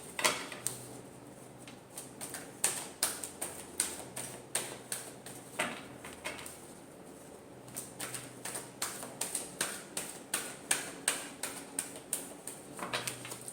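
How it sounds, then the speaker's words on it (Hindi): Tarot cards being shuffled by hand, producing a steady series of quiet, close flicks and taps in an irregular rhythm, with brief pauses between bursts. "last shuffle"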